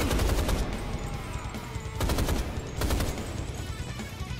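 Gunfire from the 2013 remake of the first-person shooter Rise of the Triad, loud and continuous, with rapid automatic bursts that rise and fall against a dense, busy game soundscape.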